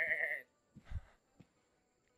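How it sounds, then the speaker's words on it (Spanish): A goat bleating in the video game Assassin's Creed Odyssey, one short loud nasal bleat at the start, then a few faint soft thumps and rustles in near silence. "Las cabras os echan de menos."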